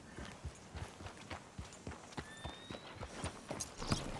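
Horse hooves clip-clop in a steady walking rhythm on a road in Red Dead Redemption 2, close and fairly loud, with faint game ambience behind.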